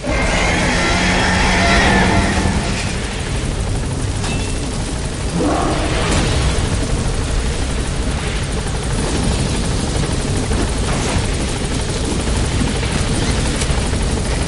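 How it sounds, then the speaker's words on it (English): Metal Gear Solid 5 gameplay: a helicopter touches down with a steady, loud rotor roar and engine whine that fills the whole stretch without letting up. "All right, the chopper's touching down."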